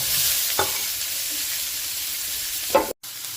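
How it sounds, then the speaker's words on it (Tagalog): Onion sautés in a pan over a steady, even sizzle, broken by a couple of brief scrapes or stirs and a short dropout near the end. "Tapos mag-gisa tayo ng sibuyas dito sa pinakuluto."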